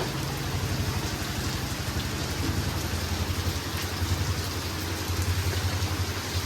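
Heavy rain pours down steadily and loudly in Ramagundam, Godavarikhani, a dense unbroken hiss with a low rumbling undertone and no voices.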